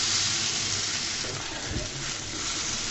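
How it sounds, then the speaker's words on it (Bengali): Garlic and tomato sizzle softly in a hot frying pan, a low continuous crackle with one brief soft knock of stirring partway through. "রসুন টমেটোটাকে আমি সুন্দর মতো গলিয়ে নিচ্ছি"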